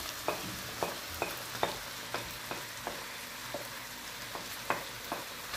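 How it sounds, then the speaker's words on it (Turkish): Onions sauté in a frying pan, giving a soft steady sizzle broken by repeated sharp clicks from a utensil stirring and scraping the pan at an irregular rhythm. "Ve sürekli karıştırarak kavuracağım"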